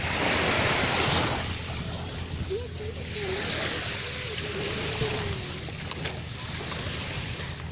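Gentle, calm sea waves wash steadily at a beach in San Rafael, with wind buffeting the microphone, and a person's voice drifts in partway through.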